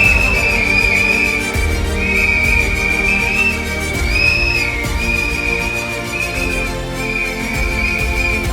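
A shrill whistle is blown again and again in a repeating rhythm for several seconds, loud and close, against a busy indoor expo crowd at Bharat Mandapam.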